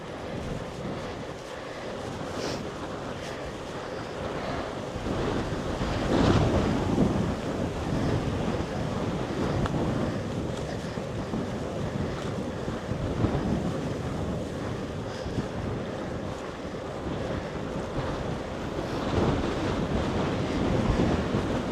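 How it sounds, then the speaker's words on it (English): Strong wind gusting outdoors, buffeting the microphone in a continuous roar that swells and eases over about twenty seconds, with no voices. "Ooh, windy, windy."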